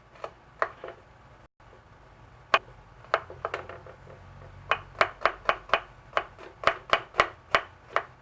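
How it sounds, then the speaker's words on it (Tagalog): A knife chopping squid into small pieces on a board, sharp isolated knocks that start sparse and build into a quick, regular run of close chops, with no voices. "Tapos, hiwain natin ng maliliit."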